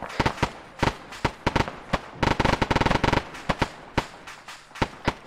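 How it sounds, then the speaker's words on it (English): Mortar fire in the Arma 3 military game, a loud, irregular series of sharp blasts and crackling bursts, some landing in quick clusters and others spaced apart, with no voices. "That's Mortars, that's our friend Mortars."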